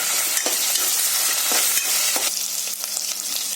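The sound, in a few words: ginger garlic paste frying in a pan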